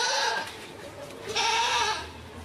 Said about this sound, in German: die Ziege gehört auch noch dazu